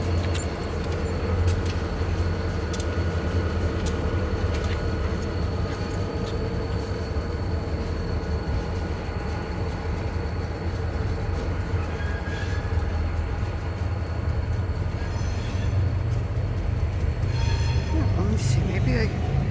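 NECR freight train switching cars at night, heard as a steady low rumble of idling locomotive and rail cars throughout, with faint metallic clanks and people talking softly in the background.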